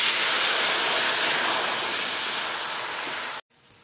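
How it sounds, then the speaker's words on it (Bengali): Water hits a hot pan while egg biryani cooks, a loud steady sizzling hiss of steam that fades slightly before cutting off abruptly near the end. "এবার আমি জল ঢেলে দেব।"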